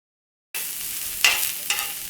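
Chopped onions hit hot peanut oil after a moment of silence, starting a bright, close sizzle, with two sharper crackling surges a little later as they are stirred.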